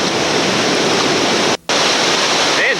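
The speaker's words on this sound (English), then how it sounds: "that's a fine start to a fantastic day of whitewater here in the New River Gorge" Whitewater rapids in the New River Gorge, West Virginia, roar as a loud, steady, broadband rush that fills the whole stretch, broken only by one brief dropout near the end.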